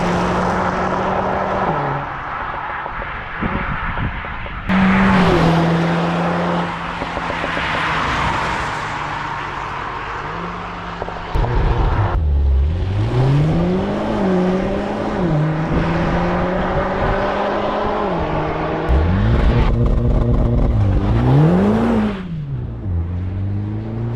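A Mercedes A45 S AMG driven hard on Scottish roads, its loud engine rising and falling through repeated gear changes, with clear shift breaks and revs sweeping up and down for the whole run and nobody talking.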